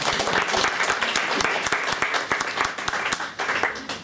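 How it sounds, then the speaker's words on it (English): An audience at an astrology workshop breaks into applause, many people clapping at close range with distinct sharp claps, the sound thinning and becoming more scattered toward the end over about four seconds. "Can we give him a round of applause?"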